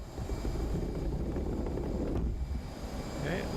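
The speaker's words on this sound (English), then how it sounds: "Let the aircraft fly off the carrier." Steady loud roar of an F/A-18C jet engine at full power during a carrier catapult launch in the DCS flight simulator, a continuous broad rumble with wind-like rush throughout.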